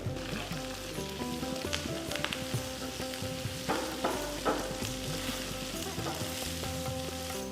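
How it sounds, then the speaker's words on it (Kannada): Chopped tomato and curry leaves fry in a pan for dal khichdi, a close, continuous crackling sizzle with stirring scrapes and small pops throughout, with no voices. "1 ಟೊಮೆಟೊ ಸಣ್ಣದಾಗಿ ಹೆಚ್ಕೊಂಡಿದ್ದೀವಿ, ಅದನ್ನು ಹಾಕ್ತಾಯಿದ್ದೀವಿ."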